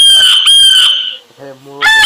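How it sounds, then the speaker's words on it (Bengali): A rooster crowing as a sound effect in a children's learning app: one loud, close, drawn-out cock-a-doodle-doo, a short pause, then the next call starting, with no talking over it. "এখানে মোরগ"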